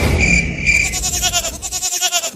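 A cartoon goat gives a loud, wavering bleat that pulses rapidly toward the end, heard up close over a busy animated soundtrack.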